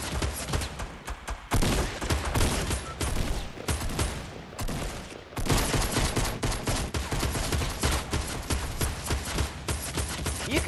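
Rapid bursts of gunfire from practice shooting in the video game Fortnite, dense volleys that pause briefly and resume, loud and close with no talking.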